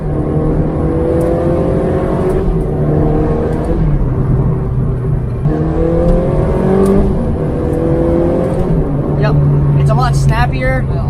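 A 2004 Ferrari 360 Challenge Stradale engine driving in race mode, revving steadily with rising and falling pitch through gear shifts, loud and close from inside the cabin, with a brief higher whine near the end.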